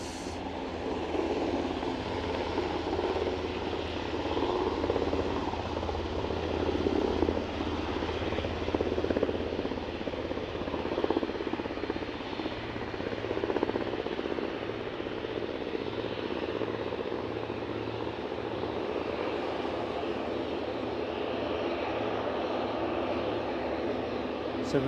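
A Loganair propeller plane departing Aberdeen airport, a steady broadband engine roar that holds for the whole stretch, moderately loud and continuous with slight swells, no talk over it.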